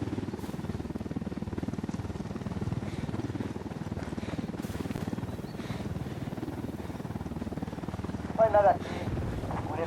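A helicopter's low, churning rotor drone rumbles steadily through Ghost Recon Wildlands game ambience, with voices talking over it and a brief sharp burst near the end.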